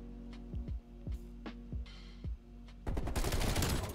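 Bullfrog submachine gun in Cold War firing in several short bursts, each a sharp thudding crack with a low ringing tail, ending in a louder, denser spray of shots, heard alone without talk.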